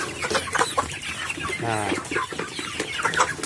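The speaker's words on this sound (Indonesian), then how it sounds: "Biasa jadwal saya pemberian pakan ayam di pagi hari ini, ayam KUB-PPG" KUB chickens at their morning feeding cluck in short, scattered bursts with one clearer drawn-out call, amid busy nearby rustling and a brief word from a man.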